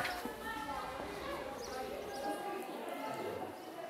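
Horse hooves clip-clopping at a steady walking rhythm around la Villette in Paris, continuous and moderately close, with background street ambience and people talking.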